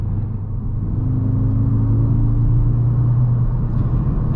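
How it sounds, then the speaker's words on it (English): A 2024 Audi S3's four-cylinder engine with a sport resonator accelerates hard, a loud, steady low growl heard from inside the cabin, its tone climbing gradually as revs rise, with no talking. "this is actually a pretty good sounding 4-cylinder, I'll tell you that. Especially with that sport resonator"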